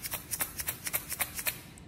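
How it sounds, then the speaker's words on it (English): A plastic egg shaker filled with beans and rice, shaken in a steady rhythm of about a dozen crisp rattling bursts, close and alone with no talk. "Now we also filled one of our eggs with beans and rice. Give it a shake"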